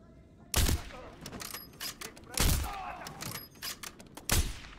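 Sharp gunshots in an MW3 campaign fire in three loud bursts spaced about two seconds apart, with quieter shots and clatter between them.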